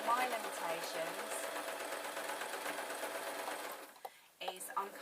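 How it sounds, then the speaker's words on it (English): A sewing machine stitches a fancy witch hat, running as a steady close mechanical whir for about four seconds before briefly stopping and starting up again. "sewing it from the far end, and then I'm sewing the last little gap towards me"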